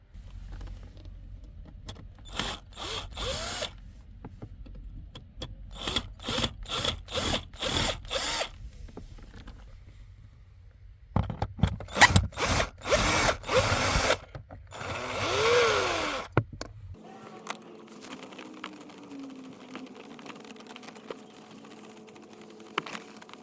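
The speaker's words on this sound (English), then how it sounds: "So let me remove these bolts, and then this complete section will come down." A power tool spins bolts loose on a Mercedes W124 during a headlight switch replacement, running in several short, loud bursts separated by pauses, then giving way to a lower steady mechanical hum.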